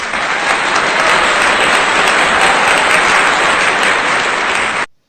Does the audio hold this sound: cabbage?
no